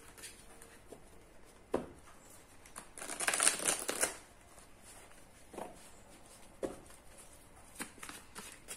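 Tarot cards being shuffled, one main riffling burst lasting about a second, with scattered soft handling taps and rustles before and after; close and fairly quiet.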